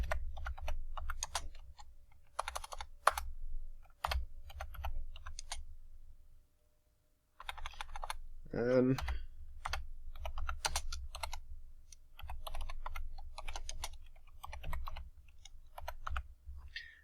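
Rapid clicking of keys typed on a computer keyboard in bursts, with a brief pause and a single spoken word.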